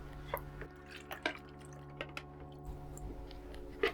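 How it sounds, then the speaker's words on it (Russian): A mix of water and microfiber is poured into a large container, giving quiet wet drips and small liquid splashes in irregular spurts. "Хорошенько размешали фибру с водой и переливаем ее в большую емкость."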